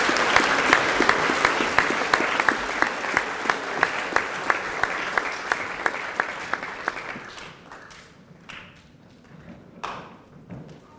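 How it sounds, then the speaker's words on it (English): A school prize-giving audience in a hall gives a round of applause with a strong, regular rhythmic clapping beat that thins after about seven seconds into a few scattered, fading claps. "Round of applause for these three."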